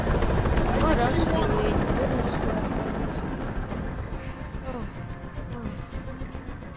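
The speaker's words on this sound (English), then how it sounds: "Tell that helicopter to get out of here." Helicopter in Detroit: Become Human, a steady loud rotor drone with broadband rumble filling the whole stretch, with voices talking over it.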